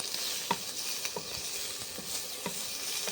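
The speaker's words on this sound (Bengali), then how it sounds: "পনিরগুলোকে আমি একটু ভেজে নিচ্ছি।" Paneer frying in butter, a steady close hiss of sizzling with small scattered pops and light stirring taps throughout.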